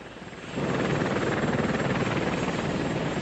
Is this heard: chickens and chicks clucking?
no